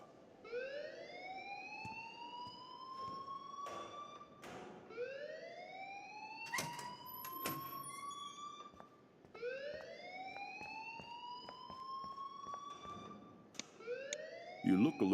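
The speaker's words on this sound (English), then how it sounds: "please turn off that alarm since that's your job" A rising, repeating alarm tone sounds in cycles of about three seconds inside a school building in the video game Life Is Strange, with scattered clicks and bumps around it.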